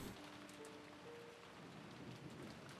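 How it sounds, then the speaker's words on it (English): Steady rain falls in the visual novel Umineko, a faint, even patter that fills the short stretch with a low rumble beneath it and no voices. "her head filled with the sound of the rain"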